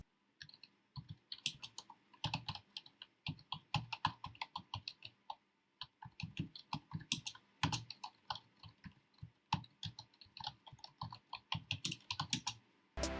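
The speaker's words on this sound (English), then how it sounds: "Now we will see the typing experience and the level of noise it makes while typing" Steady typing on a Razer Cynosa Chroma membrane keyboard, soft rapid key presses in quick irregular bursts, close and alone with no voices.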